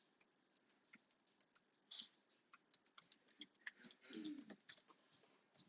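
Rapid irregular clicking of keys being typed on a computer keyboard, close and fairly quiet, with a brief burst of faster clatter near the end.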